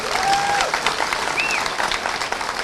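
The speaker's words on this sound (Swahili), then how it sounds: "Tupigie Kalonzo makofi." Crowd clapping at a Kenyan political rally, a brief burst of loud, dense applause with a couple of sharp whistles rising above it.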